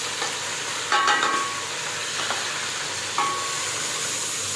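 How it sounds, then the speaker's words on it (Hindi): Homemade spices, crushed chilli and turmeric, frying in a pan for a dal, giving a steady close sizzle with a few brief stirring scrapes and clinks. "अब बस ये मसाला भून जाता है"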